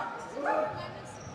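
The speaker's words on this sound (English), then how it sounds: "As more barking from the Summit crowd" Spectators at a Summit versus Bend Senior High girls' basketball game in Oregon bark like dogs in a brief, loud burst of yips and woofs, heard over a commentator's voice.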